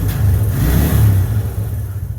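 A 1996 Suzuki Quad Runner 250 ATV engine rises in a loud, close, steady throttled rumble, holding strong for a couple of seconds before easing slightly, with no talking.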